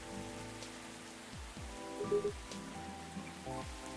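Steady rain patters on surfaces in the video game Coffee Talk, a soft continuous hiss, with gentle descending musical tones and low game music playing underneath.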